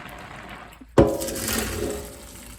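Boiled macaroni pasta and its hot water are poured out to drain, a sudden loud splash settling into a steady rushing gush of water close by.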